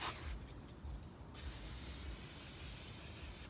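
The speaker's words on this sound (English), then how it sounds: "Okay, nonstick spray." A soft hiss from an aerosol can of nonstick cooking spray onto a Blackstone flat top griddle, opening with a brief burst and then settling into a steady, fairly quiet spray.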